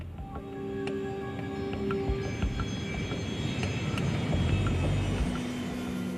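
An Embraer Legacy business jet in flight, a steady, loud engine drone with faint whining tones heard from inside the cabin, with no talk.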